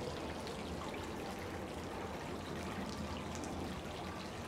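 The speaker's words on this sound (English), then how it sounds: "So the fountain's probably gonna be a little bit noisy" Small outdoor water fountain in the rain, a continuous soft splashing and trickling wash, quiet and steady throughout with no talk.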